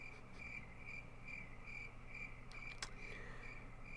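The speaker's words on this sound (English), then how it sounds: "All those crickets." Crickets chirp in an evenly spaced, repeating pulse over a soft steady background hiss, with a single sharp click near the end, played as a short podcast bumper.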